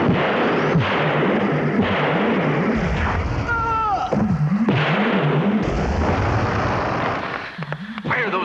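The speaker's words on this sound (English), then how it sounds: "Why are those fools shooting at the creature?" Gunfire aimed at an alien creature: loud, dense bursts of shots over a continuous roar, with warbling electronic tones rising and falling between them.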